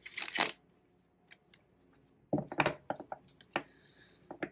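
A tarot deck is cut and shuffled by hand in a quiet room: a brisk riffle burst at the start, a pause, then a cluster of crisp card flicks and taps, close and alone.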